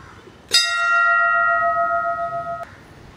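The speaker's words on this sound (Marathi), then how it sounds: "इथं समोरच आहे घंटा." A single strike of a temple bell at the Malganga temple in Nighoj village rings out bright and metallic, its sustained tone fading slowly over about two seconds before stopping abruptly.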